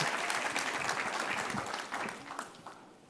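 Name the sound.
audience applause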